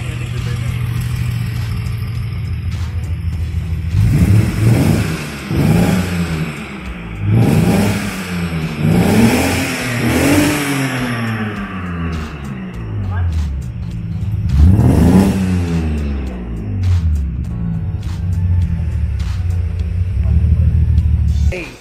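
The engine of a BMW E28 520i revs repeatedly, rising and falling in several close, loud bursts before settling back to a steady idle, with people talking beside the car.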